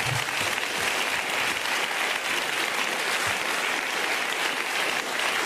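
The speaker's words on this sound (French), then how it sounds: "on vous applaudit tous les deux de toute façon" Studio audience applause on a French television comedy show, dense and sustained clapping from a large crowd, even and continuous from start to finish, with no talking.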